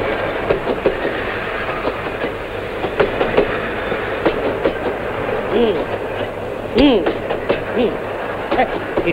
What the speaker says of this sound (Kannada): ಈ ಟ್ರೈನ್ ಬಹಳ ಜೋಲ್ಟಿ.